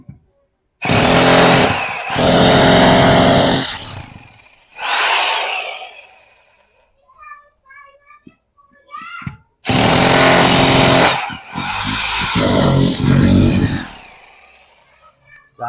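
An Ingco demolition hammer pounds loudly and close in two long runs with a short burst between, its rapid hammering filling the gaps between quieter stretches where people talk.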